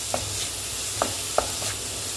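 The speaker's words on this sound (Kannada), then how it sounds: "ಇದನ್ನು ಫ್ರೈ ಮಾಡಬೇಕು ಚೆನ್ನಾಗಿ" Chopped onions fry in a pan for Andhra-style methi dal, with a constant close sizzle broken by three or four short scrapes of a stirring spoon.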